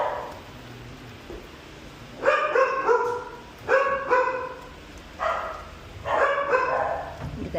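A dog barks in short bursts of two or three sharp yips at a dog grooming session in Atlanta, with four clusters spaced over several seconds against a quiet room hum.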